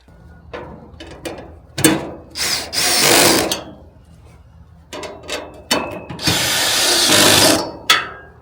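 Metal raised garden bed panels and hardware being handled and fastened outdoors, a 17-inch-tall, 27-inch-deep, 53-inch-wide bed in a backyard vegetable garden: repeated clanks, rattles and scraping bursts of sheet metal, some loud and sustained, with no talk.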